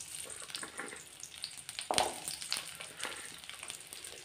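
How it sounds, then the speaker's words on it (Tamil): Onions fry in oil in a pan for a Tamil pirandai chutney, giving a steady broadband sizzle with a brief stirring clatter near the middle, close and alone. "இப்போது அதே கடாயில் இன்னும் கொஞ்சம் எண்ணெய் சேர்த்துக்கலாம். வெங்காயம் சேர்த்துக்கலாம்."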